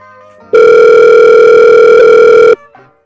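A telephone rings loudly in one long, steady electronic tone of about two seconds, alone with no talk, ending abruptly with a brief faint tail.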